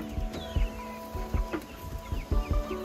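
Farm chickens cluck softly at bedtime in scattered short bursts, with occasional thumps and a low background hum, close by.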